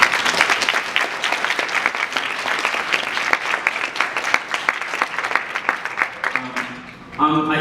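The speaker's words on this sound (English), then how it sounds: "giving a round of applause" An audience at a scholarship awards event applauds the donors with dense, sustained clapping that fills the room for several seconds before tapering off, with voices faintly beneath.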